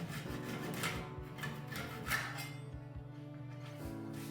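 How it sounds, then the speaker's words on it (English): A flush trim saw rasps through excess wood under oak in quick back-and-forth strokes, close and steady, with a faint low hum in the background. "Now I'm just using a flush trim saw to cut off the excess underneath for a nice clean edge."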